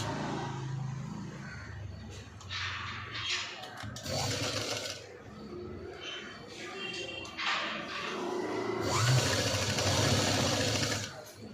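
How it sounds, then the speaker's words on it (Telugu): A sewing machine runs in several short bursts, stitching a quarter-inch line along a V-neck blouse, whirring near and fairly quiet with brief pauses between runs. "ఇప్పుడు దీన్ని పైనుంచి 1/4 ఇంచులో ఒక స్టిచ్ అనేది వేసుకోవాలి."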